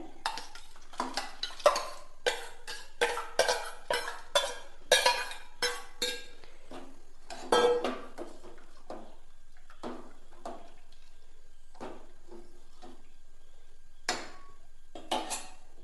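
A spoon scrapes and clinks against a pot while soaked sago payasam is stirred, a series of close, sharp metallic knocks in irregular rhythm with quiet gaps between.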